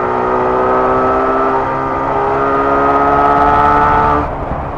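A 1970s two-stroke motorcycle engine revs hard and steady for about four seconds, loud and close, before the note drops away suddenly at the end.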